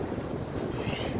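Wind blowing by the Atlantic sea, a brief, close, steady rush and buffeting against the microphone, continuous and fairly loud with no voices.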